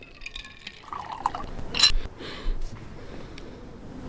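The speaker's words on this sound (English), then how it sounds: "Strain it into the glass." A thin Manhattan cocktail stirred with ice is strained into a glass, giving a short close trickle and pour of liquid with a faint clink of ice, heard alone without talk.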